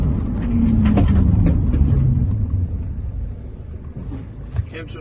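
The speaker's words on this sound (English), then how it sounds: "I'm doing 45 miles an hour. I'm going to slam on right now." A 2014 Peugeot Solway Spirit camper van brakes hard from 45 mph, heard as a loud rumbling road and wind roar from the cabin that slowly fades as the van slows, with no speech.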